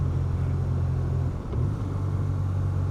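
BMW R12 nineT motorcycle running steadily with a low engine drone, dipping briefly as the quick shifter clicks through a rough upshift before the engine note resumes at a new pitch.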